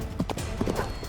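Cartoon horse hooves clip-clop in a quick, steady rhythm during an animated race, with the hoofbeats loud and up front.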